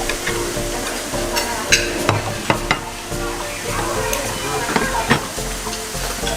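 Bangka-style fried rice frying in a pan, loud steady sizzling with repeated sharp scrapes and clanks of a spatula stirring, close up, no talk.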